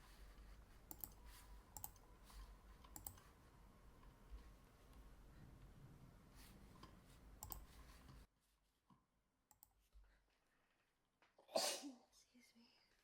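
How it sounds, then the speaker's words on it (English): A single sharp sneeze from a woman playing This War of Mine, loud and close, bursting out of near silence right after a stretch of quiet clicking and background game sound. "My sneezing"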